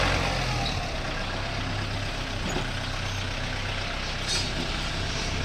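A used Kubota farm tractor's engine runs steadily at idle, a continuous low diesel rumble that stays fairly loud and even throughout with no talk over it.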